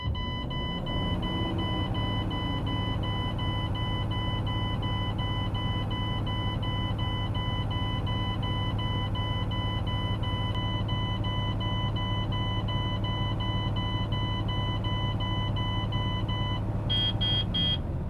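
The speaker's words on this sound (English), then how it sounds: "I've reached 60 psi and my alarms have gone off" A truck cab's low air pressure alarm sounds as a continuous, steady electronic tone at 60 psi, buzzing without pause over the idling engine for the whole stretch and changing slightly just before the end.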